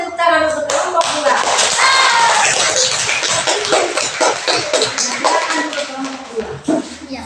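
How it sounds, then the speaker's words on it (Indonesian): A classroom group of children claps for a presenting team, a dense continuous burst of applause close and loud, with voices mixed in underneath. "Berikan dulu tepuk tangan untuk kelompok 2."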